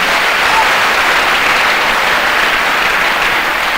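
A church congregation breaks into loud, steady applause, a dense wash of many hands clapping together for the whole stretch.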